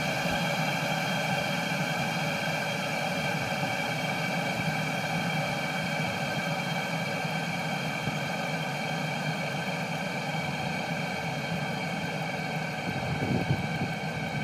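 A cheap Chinese 12V diesel heater runs with a steady, even whirring hum from its fan and motor, continuous and unbroken, with no talking.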